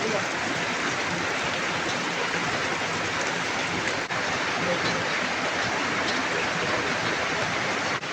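Steady rain falls outdoors over farmland, a dense, continuous hiss that stays even and unbroken from start to finish with no pauses, close and fairly loud.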